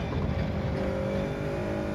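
A Suzuki Swift in Gran Turismo 7 revs hard in third gear, a steady high engine whine held at a constant pitch, moderately loud and alone.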